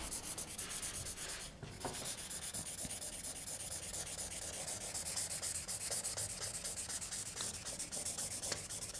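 Steady scratchy rubbing of a marker across paper, continuous and close, with quick back-and-forth strokes throughout.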